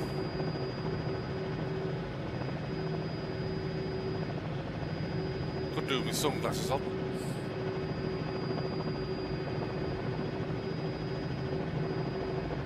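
A steady Robinson R66 helicopter engine whine and rotor drone in Microsoft Flight Simulator 2020 runs throughout, close and constant, with a brief spoken remark over it midway.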